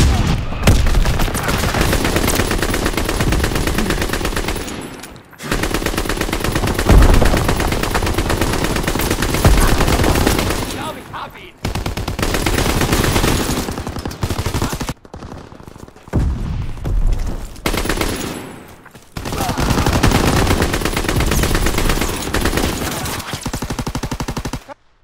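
Heavy machine-gun fire from an enemy aircraft strafing run in Call of Duty: WWII, loud and sustained in long rattling bursts broken by brief silent gaps, with booming impacts mixed in.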